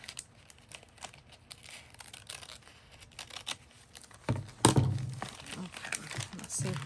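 Scissors cutting paper for a junk journal, soft snips and crinkles up close, with louder paper rustling toward the end while a person talks.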